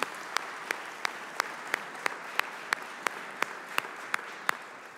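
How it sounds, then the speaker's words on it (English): Applause for a speaker at a conference, heard as sparse, evenly spaced single claps over a faint room hush, quiet and somewhat distant. "Andy, give Andy a big round of applause"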